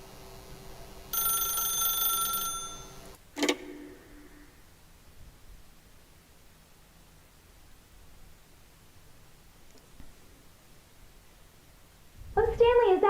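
A telephone rings in The Stanley Parable video game: a bright electronic ring lasting a couple of seconds, then a sharp click as the handset is picked up, followed by near silence and a voice at the end.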